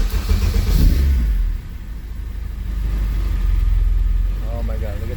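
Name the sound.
Honda K24 engine in CRX starting and idling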